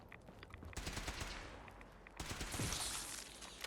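Gunfire in the video game Fallout 4, several rapid shots fired at a radroach, loud sharp bursts in quick succession with bright crackling impacts.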